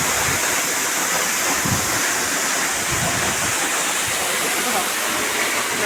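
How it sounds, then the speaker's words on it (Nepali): Steady broadband rush of water from a waterfall in a rocky stream area, loud and constant throughout with no voices. "पर हेर्नु न पर भित्र झर्ना छ"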